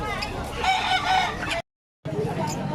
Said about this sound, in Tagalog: Ang tawag sa gantong manok, Brahma, no?